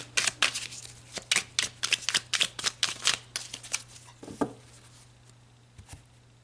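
Tarot cards being shuffled by hand, a quick run of crisp riffling bursts that slows and fades into a few soft taps, close and with no talking.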